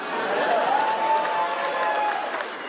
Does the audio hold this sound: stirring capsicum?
no